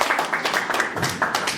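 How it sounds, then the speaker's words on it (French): Audience applause at a Werrason press conference at the Zenith, 2021: a room of people clapping steadily in loud, rhythmic bursts, close and continuous. "Est-ce qu'on peut applaudir, s'il vous plaît?"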